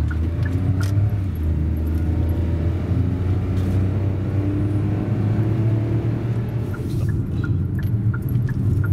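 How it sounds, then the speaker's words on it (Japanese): A car rolls along a road near Dangyokei gorge in Ohnan, Shimane, its steady low engine rumble and tyre noise holding loud and continuous throughout, with no voices over it. "車が来てます"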